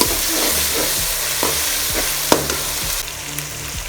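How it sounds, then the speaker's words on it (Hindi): Tomatoes and green chillies sizzle steadily with spices in a pan for a dhaba-style pumpkin chana dal, with occasional stirring scrapes over the continuous frying hiss. "मसाले इसमें अब सारे ऐड कर देते हैं और 2 से 3 मिनट को अच्छी तरह भून लेते हैं"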